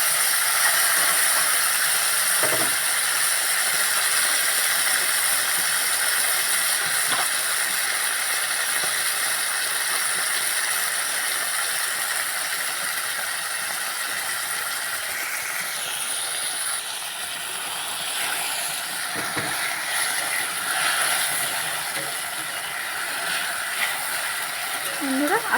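Lotia fish, salted and coated with turmeric, stirred gently in a hot pan for a sour curry, with a loud continuous steamy hiss throughout and occasional soft scrapes of the spoon.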